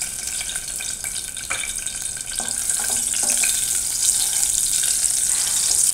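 Cumin seeds and a chopped green chili fry in hot oil, giving a steady, loud, close sizzle that runs throughout with a few light clinks and stirring sounds and no talking.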